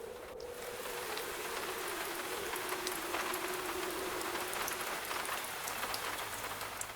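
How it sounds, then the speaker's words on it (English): Steady rain drums on attic roof tiles on a London night, a dense, even patter of close drops with a low continuous hiss throughout and no voices. "listened to the rain drumming against the roof tiles directly above her head"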